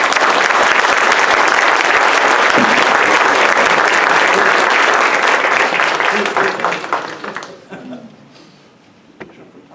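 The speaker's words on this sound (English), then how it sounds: "Give a big round of applause, everyone." A big round of audience applause fills a county board chamber at a Native American Heritage Month resolution. The dense, loud clapping is sustained for several seconds, then fades into scattered claps and a few voices.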